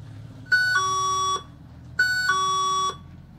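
Swann driveway sensor alert chime, an electronic two-tone ding-dong played twice in a row with even spacing, clear and alone against faint background hum.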